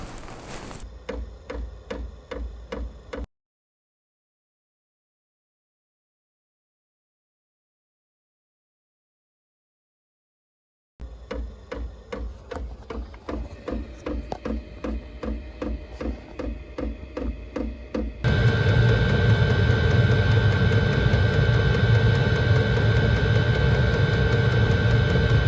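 A diesel heater's fuel pump ticks in a fast, steady rhythm, breaking off into silence and then resuming, before the burner fires up into a loud, continuous roar with ticking underneath.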